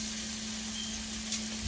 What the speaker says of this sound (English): So you see how fast this shrimp is cooking?